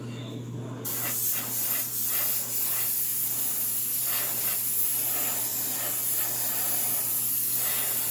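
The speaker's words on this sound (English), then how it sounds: "It'll dry fast since I'm airbrushing it." An airbrush sprays paint onto a model figure in steady, close, continuous hissing bursts that pulse slightly as the trigger is worked, with no talking.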